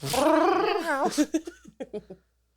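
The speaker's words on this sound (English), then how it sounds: "there's a really sweet cat here named Yoshi" A cat lets out a long, drawn-out meow close by, followed by a few short chirping mews that trail off into silence.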